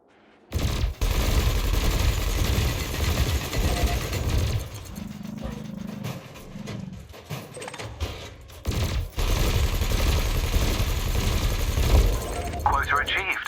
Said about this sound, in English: Meanwhile, your laser will fire until the capacitor is depleted